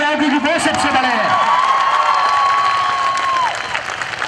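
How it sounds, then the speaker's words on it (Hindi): An audience at a motivational talk claps loudly for themselves in a dense, sustained burst of applause, with voices calling and cheering over the top and one long held shout near the middle. "सबसे पहले तो ताली बजाओ अपने अपने लिए, बहुत जोर से"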